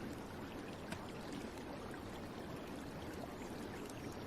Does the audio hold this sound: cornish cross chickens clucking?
no